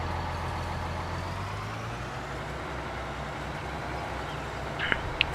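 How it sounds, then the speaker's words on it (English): Small tractor engine idling in Farming Simulator 19, a steady low drone with a slight pitch shift early on, continuous and moderately loud, with a couple of faint clicks near the end. "Nice noisy little tractor."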